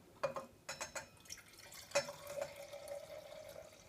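Wine poured from a bottle into a glass, a short series of quiet liquid splashes and trickles close by, fairly faint with small drips near the end.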